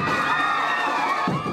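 Crowd cheering and shouting at a campaign stop in Pandacan, Manila, a dense roar of many voices held steadily loud throughout, with a sharper burst of yelling near the end.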